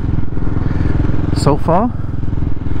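A CCM Flat Tracker Classic motorcycle with steep steering geometry is ridden behind a lead rider, its steady loud engine drone filling the clip while a rider's voice speaks briefly over it.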